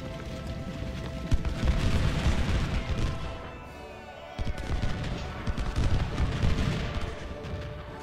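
Musket gunfire in the Civil War strategy game Ultimate General Civil War, with dense rolling volleys and booms that fade for a moment and then resume in crackling waves.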